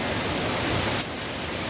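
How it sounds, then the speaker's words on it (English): Heavy hurricane rain from Hurricane Zeta on the Gulf Coast pours in a steady, dense broadband hiss, loud and continuous, easing slightly after about a second with no voices. "There's the rain coming through those lights there."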